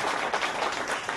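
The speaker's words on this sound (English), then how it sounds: "And Jamie Brown, a big round of applause for volunteering." Audience members at a summer jam camp concert clap for a volunteer, a brief burst of steady, moderately close applause from many hands.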